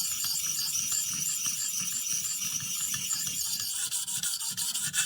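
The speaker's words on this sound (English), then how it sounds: "a little back and forth here on both sides, and let's just see if we can polish that edge up." A WE Banter pocket knife edge scraped back and forth on a sharpening stone, a dense, continuous close rasping with rapid strokes, loud and unbroken, no voices.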